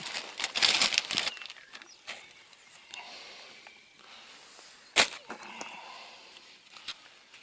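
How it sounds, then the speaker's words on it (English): A plastic Ziploc bag from a water-shoe package is handled close by, giving bursts of crisp crinkling and rustling, loudest in the first second and with a sharp crackle near the five-second mark, over a quiet room. "it's actually going to be a Ziploc bag"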